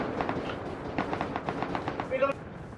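Rapid gunfire in the Rust survival video game during a raid, a quick string of moderately loud shots in a fast rhythm with background game noise.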